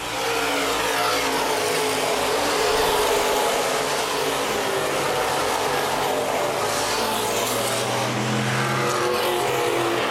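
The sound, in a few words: open wheel modified race cars racing on speedway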